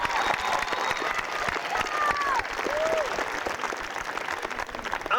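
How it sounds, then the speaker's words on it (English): A graduation ceremony audience at UCSB applauds in a dense, sustained wash of clapping from a large crowd, with some voices and faint cheers mixed in. "Let's give them our applause."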